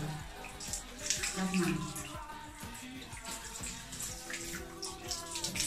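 Tap water runs steadily as hands are rinsed under a faucet during a clinical handwashing routine, with a continuous splashing hiss throughout and a person talking over it.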